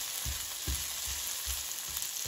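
Green beans sizzle in a frying pan while being stirred, a steady hiss with soft low bumps of the beans shifting every half second or so.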